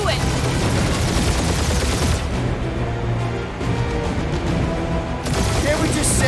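Sustained rapid gunfire from a Guardians of the Galaxy video game battle, dense and loud throughout, mixed with game voices talking over the shooting.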